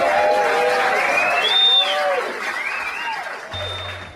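Crowd applause and cheering for a stand-up comedian at a show in California, loud and steady through the clip, with whoops and voices over the clapping that fades slightly toward the end.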